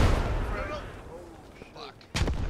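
A grenade blast in a military shooter video game with Marines, heard as a sudden sharp explosion near the end, following a stretch of distant battle noise and gunfire.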